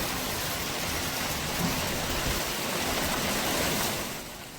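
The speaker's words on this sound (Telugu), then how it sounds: "తెలంగాణ వ్యాప్తంగా కురుస్తున్న వడగళ్ల వానలు అన్నదాతల పాలిట శాపంగా మారాయి" Heavy hailstorm rain pours steadily during unseasonal storms over harvest-stage paddy fields in Telangana, a dense, even roar of falling water that holds constant for several seconds before easing slightly at the end, with no voices.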